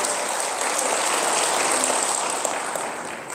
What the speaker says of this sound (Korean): 우리 함성과 함께 박수.